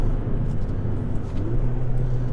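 A Stage 1 tuned 2015 Ford Fiesta ST is driven hard on a wet road, heard from inside the cabin as a close, steady engine drone with low road rumble and a brief dip in tone as a gear changes.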